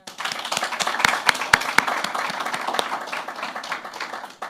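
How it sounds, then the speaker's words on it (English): A panel-discussion audience at a girls-in-science event claps for the panelists, a steady patter of many hands with a few sharper, louder claps standing out near the front. "I really need to clap for them again"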